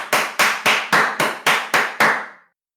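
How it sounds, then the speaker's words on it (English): Eight loud, evenly spaced hand claps from one person, sharp and close, ringing briefly after the last one. "that was the loudest clapping I've ever done"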